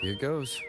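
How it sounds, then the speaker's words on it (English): A character in the Wuthering Waves video game gives a short, bright, stereotypical whistle, its tone rising and falling over a fraction of a second, close and clear alongside a brief spoken remark. "Did she just do the freaking stereotypical like whistle?"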